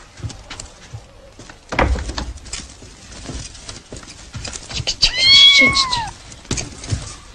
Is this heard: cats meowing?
yes